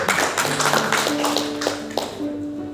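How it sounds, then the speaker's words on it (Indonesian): A church congregation clapping hands during a worship service in Denpasar, Bali, with roughly rhythmic claps over sustained keyboard tones, fairly close and steady before tapering off. "tepuk tangan dulu buat Tuhan Yesus."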